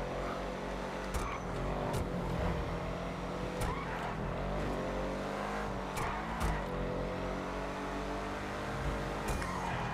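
Cars racing and skidding through the streets of GTA 5 Online in a police chase, with a dense steady engine roar, tire squeals and a few sharp impacts across the whole stretch.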